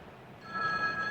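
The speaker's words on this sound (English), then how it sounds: "Oh, my phone." A telephone rings in an indoor scene, its steady electronic tone starting partway through and continuing clearly at moderate loudness over a quiet background.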